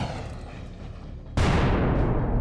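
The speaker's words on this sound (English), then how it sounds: "The main gun is a huge rubber band-powered cannon that kicks back like a mule when it fires." A Lego tank's large rubber band-powered cannon fires with a sudden loud broadband crack that holds as a sustained burst of noise after a quieter stretch of background rumble.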